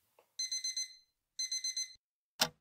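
An electronic alarm beeps in two quick bursts of four sharp, high-pitched tones each, separated by a short pause, followed by a brief click.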